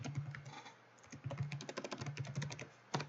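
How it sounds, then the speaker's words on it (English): Rapid typing on a computer keyboard, a steady patter of close, crisp key clicks with a few louder strokes, heard alone with no talking. "I'm just typing in anything"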